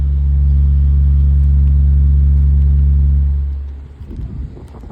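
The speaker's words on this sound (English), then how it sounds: "Here's a close-up sound of the blades running." A Black + Decker 10-inch box fan runs on high, giving a steady low droning hum of blades and motor at close range that winds down and fades near the end.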